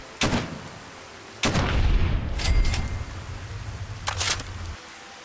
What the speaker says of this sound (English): Oh, that's him shooting at a rad scorpion.